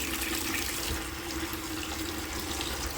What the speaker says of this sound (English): and we have running water.